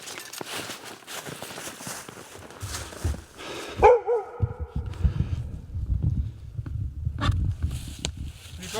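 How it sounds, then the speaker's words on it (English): A dog barks outdoors at a winter bushcraft campsite, a few sharp close barks in the middle, with rustling and low rumbling activity around it. "What are you barking at?"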